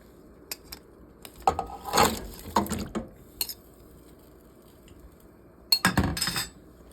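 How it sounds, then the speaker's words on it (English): Smoked ribs dropped back into a soup pot of stock, with several bursts of clanking metal and clinking utensils against the pot, moderately close, separated by quiet pauses and no talk. "Now I'm going to add the ribs back in"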